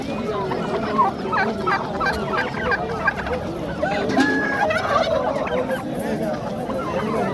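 A crowded chorus of poultry at a Namangan market, with clucking, gobbling, duck sounds and rooster calls overlapping continuously at close range.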